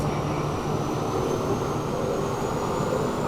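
Aircraft starting to taxi in a flight simulator game, a steady, even engine drone with a faint high whine held throughout, no voices.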